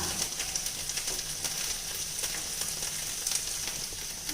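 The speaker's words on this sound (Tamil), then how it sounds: "ஒரு அடுப்பில் வெண்டைக்காய் நல்லா வதக்கிட்டு இருக்கோங்க" Steady, continuous sizzling of okra frying in a hot pan, close and even throughout, with light stirring scrapes.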